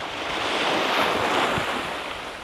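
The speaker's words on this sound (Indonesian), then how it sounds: "Ombaknya semakin aku kesini semakin kenceng ya." Ocean waves surge against an eroding Jakarta shoreline, a loud, broad roar of surf swelling and easing over a couple of seconds, with wind buffeting the microphone.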